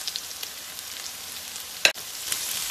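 Cumin, scallion, ginger and chili stir-fry in oil with a soft, steady sizzle, broken by one sharp crackling pop near the end.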